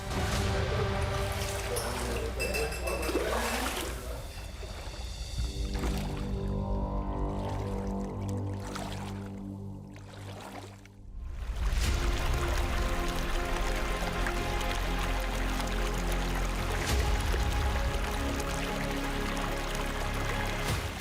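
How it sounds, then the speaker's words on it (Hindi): Water pours steadily from a pipe into a bathing pool inside a flooded cave shrine, a continuous loud rushing splash with heavier surges near the start and again after a brief dip midway. "उस पाइप के रास्ते से अतिरिक्त पानी इस कुंड में जमा होता है।"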